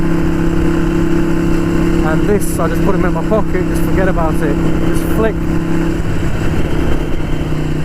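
A Harley-Davidson Sportster 883 Iron motorcycle engine idles with a steady low rumble while someone talks over it close by.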